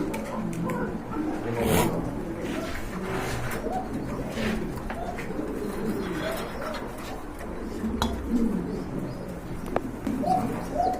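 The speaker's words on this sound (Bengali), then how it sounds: "ভিউয়ার্স আরেক জোড়া কবুতর দেখতে পাচ্ছেন" A pair of Indian Mumbai red pigeons coo repeatedly at a bird market, soft rolling calls close by over a busy background with faint distant chatter and chirps.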